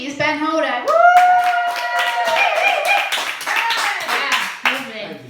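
A small audience at a live music stream claps and whoops after a song with piano accompaniment; a loud sung or cheering voice rises over the rhythmic clapping, which continues close and bright throughout.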